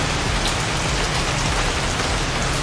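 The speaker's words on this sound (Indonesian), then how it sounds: "Posisi hujan jadi tidak bisa jalan-jalan." Steady, dense rain pours onto a hard surface close by, a constant hiss of drops with no pauses and no voices.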